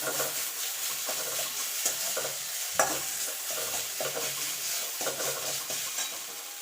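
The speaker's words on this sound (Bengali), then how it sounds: "দিয়ে একটুখানি নাড়াচাড়া করে নেবো, খুব বেশি নাড়াচাড়া করার দরকার নেই।" A spoon stirs green chilies and ginger in a hot pan: rhythmic scraping strokes about once a second over a constant soft sizzle.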